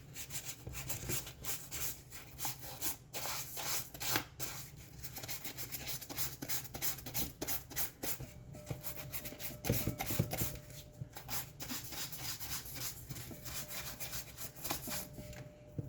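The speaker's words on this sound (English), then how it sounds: "get this a little scuff, the sanding sponge" Steady rapid scratchy rubbing of a sanding sponge scuffing a 1/6-scale Predator figure sculpt, continuous back-and-forth strokes, close up with no talking.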